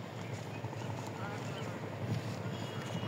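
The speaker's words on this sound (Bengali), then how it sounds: "আমার পিছন দিয়ে দেখেন, বিশাল বড় একটা ট্রলার যাইতেছে" A large trawler passes on a river with a steady low engine rumble and chugging, joined by wind buffeting the microphone. A person talks over it.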